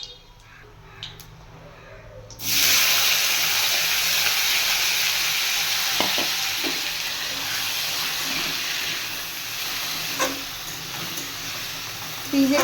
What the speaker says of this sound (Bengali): তেলে হচ্ছে একটু শুকনা লঙ্কা আর কালো জিরে ফোড়ন দিলাম